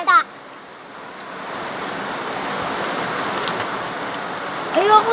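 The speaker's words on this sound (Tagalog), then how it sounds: "Sobrang lakas na ng ulan, guys." Heavy rain pours down in a dense, continuous hiss that holds steady throughout, with brief voices and chirpy sounds at the start and end.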